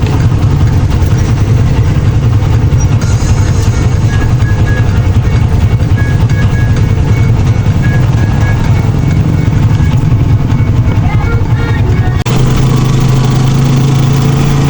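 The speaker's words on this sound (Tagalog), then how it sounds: "Grabe po ang traffic." A dense, steady engine drone with a rumbling low end fills a vehicle in heavy traffic, loud and continuous throughout, with no one speaking.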